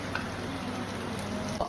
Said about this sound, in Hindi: प्याज को अब हम फ्राई कर रहे हैं